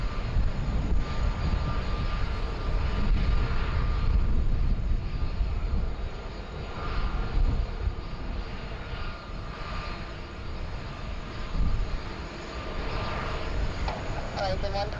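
An airliner with Pratt & Whitney engines takes off from runway 16 right at Sydney Airport in heavy rain and wind, a loud sustained engine roar that swells and fades, with people talking over it.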